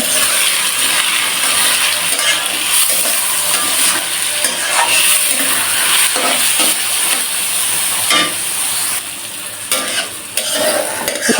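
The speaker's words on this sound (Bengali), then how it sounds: "জিরা ফোড়নের উপরে ডাল দিয়ে দিলাম জিরা ফোড়নের উপরে" Lentils frying over a cumin tempering in a pan give a loud continuous sizzle, with frequent metal spatula scrapes and stirring clinks throughout.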